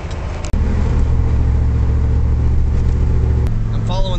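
A truck engine drones loud and steady from inside the cab while driving, a constant low rumble that briefly cuts out near the start and shifts tone again after a few seconds.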